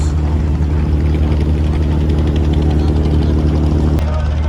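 A passenger launch on the Dhaka–Bhola river route roars with a loud, steady low engine drone that holds unbroken throughout, with a voice faintly over it.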